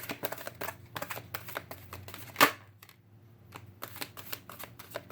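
Tarot cards shuffled by hand in a quiet room, a string of close, crisp riffling flutters with short pauses between bursts, and one sharper snap partway through.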